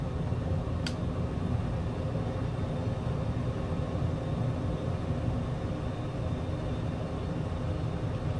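A Maule MX-7-180 light plane's engine drones steadily in Flight Simulator 2024 near Playa Sámara, Costa Rica, a continuous low rumble with a brief click near the start and no talk.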